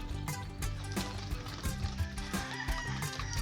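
Several crossbred chickens cluck nearby in overlapping, irregular bursts, amid a busy background of rustling and other barnyard noise.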